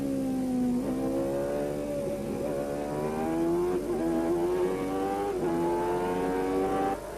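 A 1991 Formula 1 Benetton race car, heard from Piquet's car as he passes teammate Moreno, screams close by at high revs, its engine pitch climbing repeatedly through upshifts.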